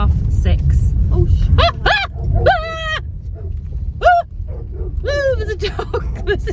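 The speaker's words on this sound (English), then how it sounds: "There's a dog. There's a big dog." A big dog barks several times in short, separate bursts, with some higher yips mixed in, over a steady low rumble of road and vehicle noise.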